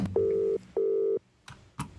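Two long, steady telephone dialing tones in a row, each about half a second, followed by two short clicks or pops, clear and close with no talking.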